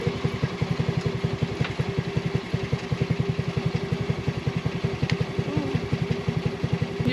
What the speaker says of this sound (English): This is my first time on a dune buggy.